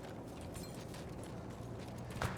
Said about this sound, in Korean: 발소리 들린다.